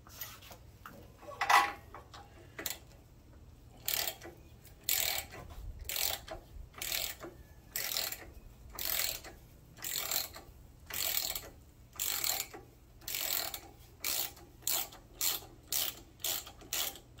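A socket wrench ratchets a spark plug out of a Briggs 14.5 hp OHV engine, giving repeated bursts of loud, close metallic clicking in a steady back-and-forth rhythm.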